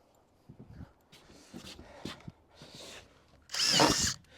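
During a garden room build, a power drill drives screws into wood, with a few quieter ticks and shuffling before one loud, close whirring burst near the end.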